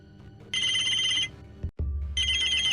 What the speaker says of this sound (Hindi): तभी उसका मोबाइल बज उठा